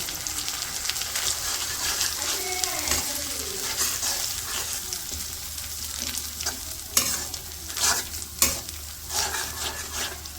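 Eggs frying in a pan in a village kitchen, a steady close sizzle broken by repeated scraping stirs and a few sharper utensil clacks toward the end, with no speech.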